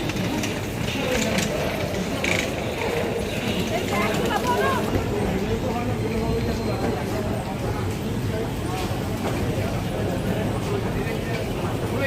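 A passenger train on the Kolkata–Varanasi run to Varanasi Junction rumbles steadily throughout, with a continuous low roar and a faint murmur of voices inside the carriage.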